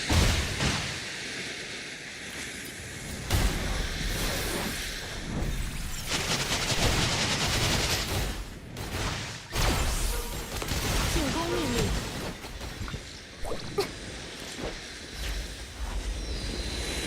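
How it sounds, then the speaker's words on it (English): Fireworks-like crackling and popping blasts fill a video game soundscape, rapid dense bursts and booms running continuously at moderate loudness with some louder peaks. "What the fuck is this fireworks sound?"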